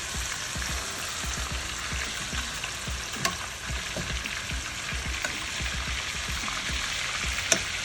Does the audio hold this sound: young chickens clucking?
no